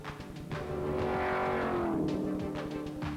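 Race cars, among them a bright green Ford Mustang GT, roar past with a rising and falling engine note at the 1985 Benson and Hedges six-hour saloon car endurance race, loud and close for a few seconds.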